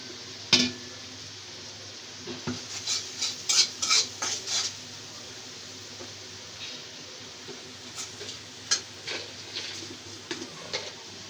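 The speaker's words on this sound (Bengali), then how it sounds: "এখন আমি মশলাটাকে ভালো করে কষিয়ে নিব" A utensil stirs spice masala of coriander and cumin powder frying in a pan for a Bengali rui fish-head muri ghonto. Quiet background sizzle sits under intermittent metallic clinks and scrapes in irregular bursts, heard close with no talking.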